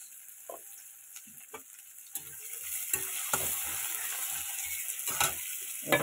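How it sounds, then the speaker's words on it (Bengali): Chopped onions fry in hot oil with a steady bright sizzle, broken by scattered clicks and low knocks of a spoon stirring through the pan; no voices. "পেঁয়াজগুলোকে লাল লাল করে আমি একটু ভেজে নেব।"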